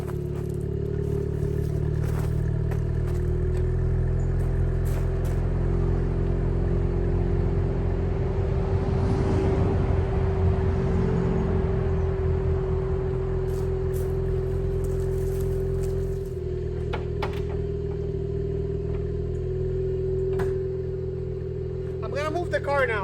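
A Mazda RX8 rotary engine idles steadily up close after sitting unused for two and a half years, a continuous low hum with some rattles and scrapes around it, and a voice talks over it.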